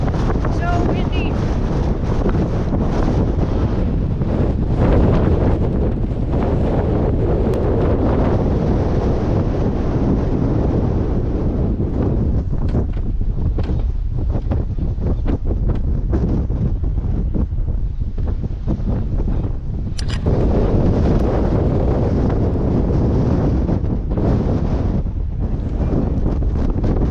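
Strong wind buffets the microphone on the open deck of the USS Kensington, a loud, continuous roar with gusty surges and water noise beneath, lasting throughout with no clear talk.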